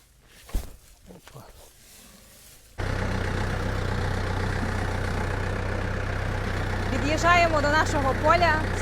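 A tractor engine starts up and idles steadily with a deep, constant rumble, close by; voices speak briefly over the running engine.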